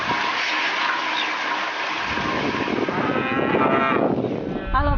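Dairy cows on a farm in Selo, Boyolali, below the Merapi and Merbabu volcanoes, moo loudly and close in long drawn-out calls, with a rushing water-like background.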